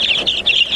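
Chickens at a backyard coop being rebuilt give a quick run of repeated high clucks, several short calls in an uneven rhythm, close and fairly loud with no talking.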